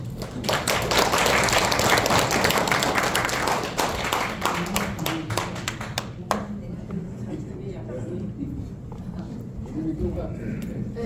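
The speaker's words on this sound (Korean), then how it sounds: "여러분의 뜨거운 박수로 양승희 교수님을 앞으로 모시겠습니다" An audience at a governance forum on smart care applauds to welcome a nursing college dean, a loud, dense burst of clapping that eases off into scattered claps and faint room noise.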